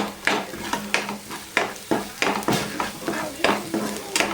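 Masala spices, including goda masala, fry in a pan while a spoon stirs them in regular scraping strokes, about one per half second, over a soft sizzle close to the microphone.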